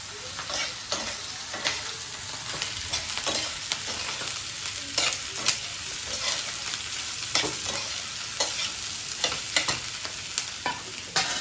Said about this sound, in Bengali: সয়াবিনকে সাথে একটু ভাজতে হবে